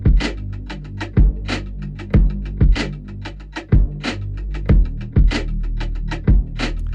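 A deep outboard synth bass line pulses under steady drums, with punchy kick hits and crisp ticking hi-hats in a repeating groove, loud and without voices.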